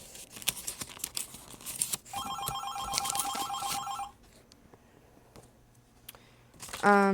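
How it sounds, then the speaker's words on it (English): A telephone bell rings in a steady, rapid trill for about two seconds, fairly close, amid crinkling and tearing of paper from a journal being handled indoors. "Sorry, the phone's ringing"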